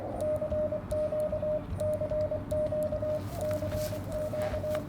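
Morse code CQ call on a ham radio receiver: a steady single-pitch tone keys out dots and dashes in repeated groups over a bed of static and radio noise, with no voices.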